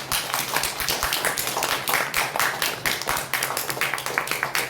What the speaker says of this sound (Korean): 하나님께 큰 박수로 영광 올려드리겠습니다